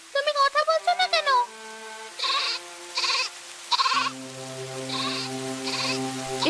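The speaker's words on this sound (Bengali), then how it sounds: "ছাগলের ঘর থেকে কান্নার শব্দ আসছে কেন?" A goat in a leaky goat shed bleats during heavy rain, giving a quick run of loud, wavering cries up close, then several shorter, spaced calls against a steady background hum.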